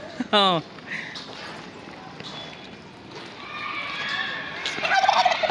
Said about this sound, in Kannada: ನೋಡಿ ಟರ್ಕಿ ಕೋಳಿ